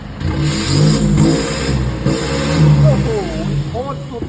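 A 1.9-litre diesel car engine revs up and down in steady surges, close by, with people chatting over it.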